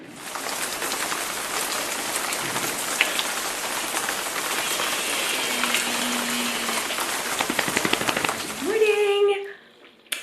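Steady rain pours down outside a house under renovation, a dense, continuous patter on surfaces that holds for the whole stretch, then gives way near the end to a brief rising mechanical whine.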